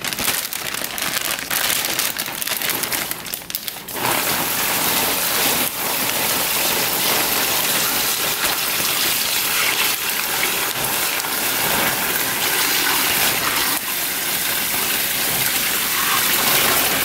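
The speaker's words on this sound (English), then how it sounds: "So we're gonna go ahead and pour it in the bag." Cooled turkey brine gushes from a container into a brining bag, a continuous loud splashing pour that runs steadily after a short rougher start, with no talking.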